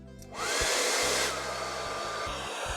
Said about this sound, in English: now I have my wife's trusty Tresemme hairdryer. Put a bit of heat on.